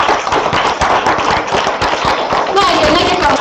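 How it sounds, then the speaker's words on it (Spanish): An audience claps steadily at a political panel on women's rights in Peru, a dense, continuous patter of many hands that stays loud for the whole short stretch, with a voice over it near the end. "Sí, un aplauso, compañeros."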